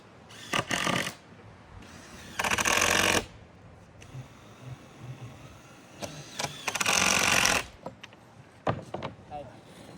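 Screws are power-driven down into mobile home roofing, several loud whirring bursts of a few seconds each separated by pauses, with clunks and voices of workers nearby.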